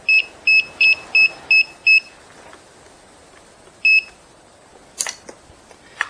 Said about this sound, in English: It only has to beep to let me know that there is volts on the other side.